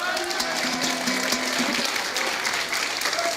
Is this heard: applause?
yes